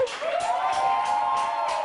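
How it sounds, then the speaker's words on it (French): An audience at a live event cheers and applauds for Pacha Tambou, with a rising sustained shout or whoop over a bed of clapping and crowd noise, loud and continuous for under two seconds. "Applaudissements pour Pacha Tambou."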